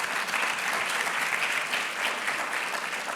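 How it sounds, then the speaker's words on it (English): Dense, steady applause from an audience at a 2023 College of Medicine awards ceremony, honoring the winner of a radiology excellence award, holding an even, full level for the whole stretch with no pauses. "Round of applause for Blake."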